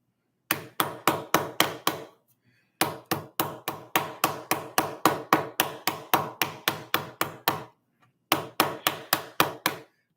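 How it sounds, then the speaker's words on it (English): Repeated sharp hammer strikes on plastic building-block pieces from a Mould King TIE Bomber set, in three rapid bursts of evenly spaced blows separated by short pauses, close and loud with no talk. "before I start following them with the hammer."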